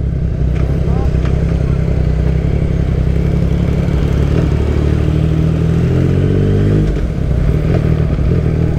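A motorcycle with a loud exhaust rides along a coastal road in San Antonio, Zambales, its engine droning close and steady, with one rising rev sweep partway through.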